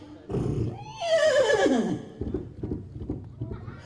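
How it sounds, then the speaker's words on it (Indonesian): A horse gives a loud, descending whinny, followed by a run of quicker hoofbeat-like thumps at close range. "Oh, itu apa tadi yang lari? Oh, kuda."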